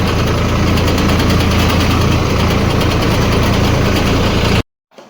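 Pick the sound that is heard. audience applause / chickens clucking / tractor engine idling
tractor engine idling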